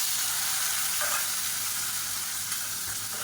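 Boiled potatoes tipped into hot frying oil for a crispy Tamil-style potato fry, giving a loud, steady, close hiss and crackle that holds evenly throughout without any talking.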